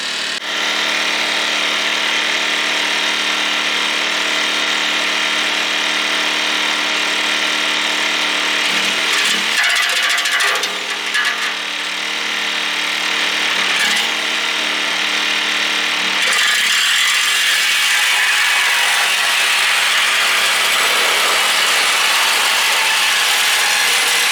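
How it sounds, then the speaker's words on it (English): A Sawzall reciprocating saw cutting wood, a loud, continuous buzzing rattle of the blade running steadily for over twenty seconds with brief shifts in pitch and load, close by and without talk. "So let's see if it'll run a Sawzall."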